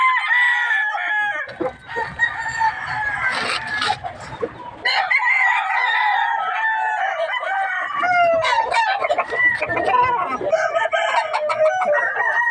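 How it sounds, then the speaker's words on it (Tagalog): Several gamefowl roosters crowing and clucking nearby, overlapping calls rising and falling in drawn-out crows with busy clucks between them. "Yung mga pambentang manok yan."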